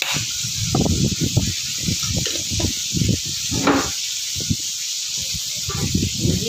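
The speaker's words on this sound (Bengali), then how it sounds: "অপর পাশে মাছ হচ্ছে তো তাই মাছ ভাজার শব্দটা আসছে, ফুট ফুট করে শব্দ হবে" Koi fish frying in hot oil in a nearby pan, a steady hiss broken by irregular, closely spaced crackling pops and spits.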